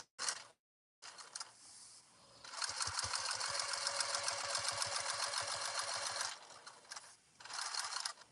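Sewing machine stitching fabric for a family travel organizer, running in a steady rapid hum in several bursts with short pauses between, close and loud, no talking.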